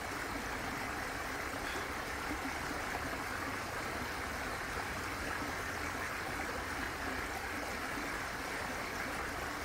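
Waterfall roars as a constant broadband rush, steady and loud, with no pauses over its full length and no one talking.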